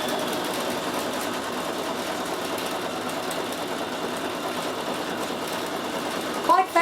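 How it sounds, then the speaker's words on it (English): A Bernina 7 Series sewing machine runs with its embroidery module attached, giving a steady, fast mechanical whir and needle rhythm that continues evenly throughout, with a couple of louder knocks at the very end. "It's actually hard to walk away from the machine when it's embroidering"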